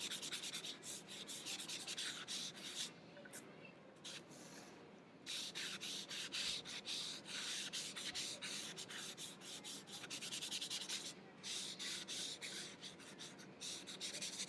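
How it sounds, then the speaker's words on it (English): Charcoal smudged and rubbed across drawing paper while shading birch trees, a steady close scratchy rubbing that runs almost continuously with a few brief pauses. "I think this is one of the most fun parts, getting to smudge the charcoal"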